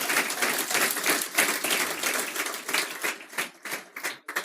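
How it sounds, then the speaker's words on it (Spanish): A church congregation claps in a sustained burst that thins into scattered individual claps toward the end, close and lively. "denle un aplauso bien grande al Rey de Reyes y Señor de Señores"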